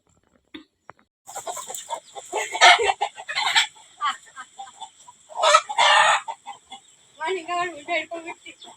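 Chickens clucking and squawking in short, loud bursts close by, with a rooster-like call among them, scattered across the clip with pauses between.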